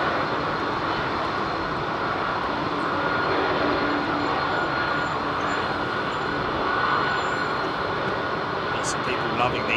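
Airliner departing London Heathrow, a steady broadband jet roar that holds throughout and swells slightly midway, with faint voices talking underneath.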